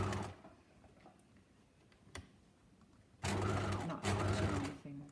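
A sewing machine stitches a collar onto a garment neckline, running faintly at first and then stitching loudly and steadily in two close bursts near the end.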